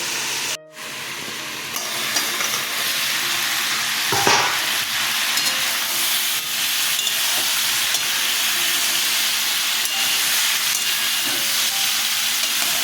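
Vegetables, including pumpkin stalks, sauté in a pan with a loud, continuous sizzle and hiss close by, with a sharp clank near the start and a brief thump midway.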